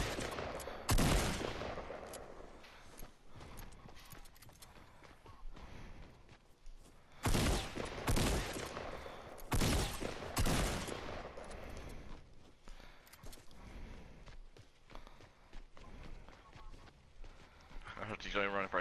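Rapid gunfire bursts in a Fortnite battle royale match, several loud volleys of shots spaced through the scene, with players talking over and between them.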